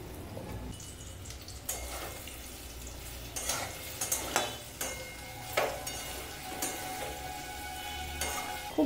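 Cornstarch-coated jackfruit frying in hot white oil in a wok, a steady close sizzle with intermittent stirring clinks and scrapes and a few sharper spatters, no talking.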